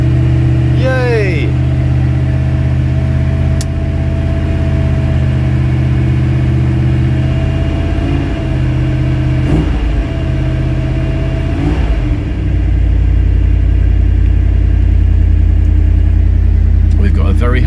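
A Triumph Stag engine runs at a steady, loud close-up idle after a choke cable replacement, with a deep rumble throughout and a few brief clicks and knocks layered on top.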